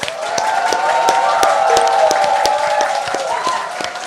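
A studio audience claps and cheers to open a Korean current-affairs talk show, with scattered sharp claps over a sustained crowd tone at steady moderate loudness.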